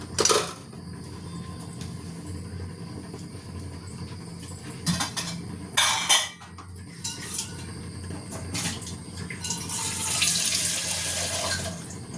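Tap water runs steadily into a vessel in a home kitchen, with brief clinks and knocks of metal pots and dishes and a brighter, louder gush near the end.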